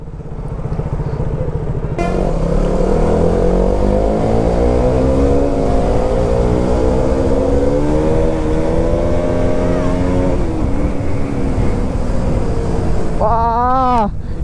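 Two motorcycles pass close by on a hill road near Kapila Theertham, engines droning loudly with rising and falling pitch. One is an old, much-repaired bike. A sharp tonal sweep is heard near the end.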